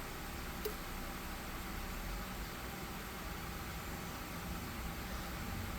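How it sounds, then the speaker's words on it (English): A steady electric fan whirs in a garage workshop with the door open, a constant faint broadband hum and hiss throughout, with no speech and no other distinct sounds. "So if you hear my fan in the background"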